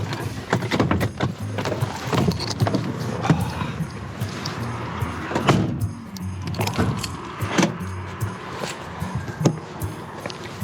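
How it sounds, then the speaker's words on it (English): Van doors closed and locked on a street in Shrewsbury town centre, a run of sharp mechanical clunks and clicks at close range over steady outdoor traffic noise, with faint voices in the background. "locking a different vehicle"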